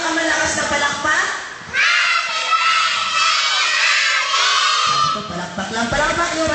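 Children at a birthday party clap and cheer loudly together, a dense burst of shouting and applause that swells in the middle and carries on with kids' voices throughout.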